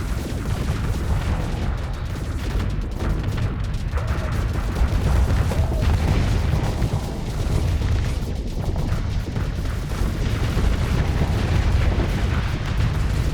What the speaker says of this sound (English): Something that I truly love about the Giga Cannon is that it has no problem with going further than the range